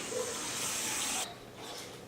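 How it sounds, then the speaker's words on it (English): A pot filler faucet mounted above a kitchen stove runs water into a pot, a steady hissing spray that cuts off abruptly partway through, leaving a quieter tail. "this bougie water filler above her stove"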